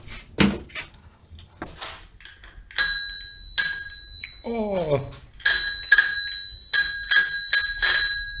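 The bell of a yellow oBike rental bicycle is rung repeatedly, bright metallic dings in two quick bursts of several rings each, close and loud, with a person speaking and some handling clatter between them.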